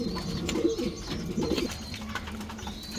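Club racing pigeons coo softly and repeatedly in a loft where hens sit on eggs, with low rolling calls close by and faint background noise.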